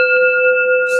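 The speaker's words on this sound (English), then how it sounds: "let's ring some bells" A single bell rings with a sustained, clear, steady tone that holds evenly and a faint brighter shimmer near the end, close and loud with no talking.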